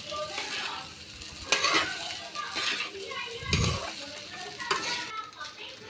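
Egg rice is stirred in a hot pan, a steady sizzle with scraping spatula strokes and occasional louder clinks against the pan, close by.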